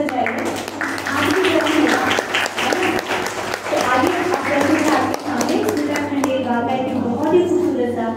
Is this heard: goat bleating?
no